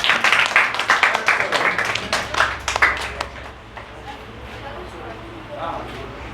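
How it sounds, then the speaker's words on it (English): An audience claps for a person called onto a stage, a loud burst of dense clapping for about three seconds that thins out and fades to quiet room noise. "Clap for him."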